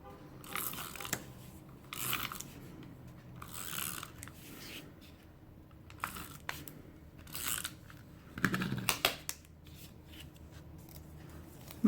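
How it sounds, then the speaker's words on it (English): A tape runner laying adhesive strips onto paper while making a junk journal gift card holder, heard as a series of close, dry crackly rubbing and ripping bursts spread across the clip with short pauses between. "Then we'll just use this tape runner for here."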